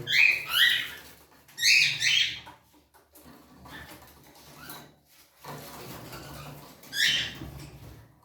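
Bright, rapid chirps from young cockatiels come in several short bursts separated by pauses, fairly close, with faint rustling and shuffling in between.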